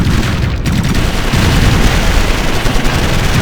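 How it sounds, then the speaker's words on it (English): Heavy gunfire in the video game Ground Control 2 rattles in dense continuous bursts with booming impacts, loud and relentless with no pauses. "We're under heavy fire."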